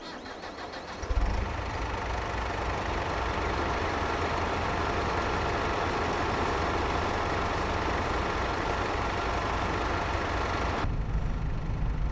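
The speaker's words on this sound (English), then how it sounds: "the smaller one has a small tractor sounding engine" A small Valtra tractor engine in Farming Simulator 22 starts up, then idles with a steady low rumble and rattle that runs unchanged for several seconds before cutting out abruptly.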